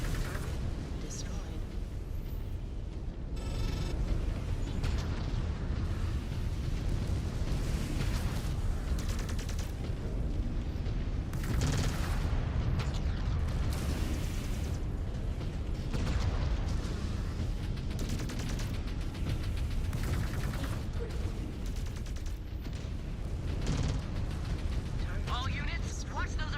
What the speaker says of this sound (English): All units, watch those artillery impacts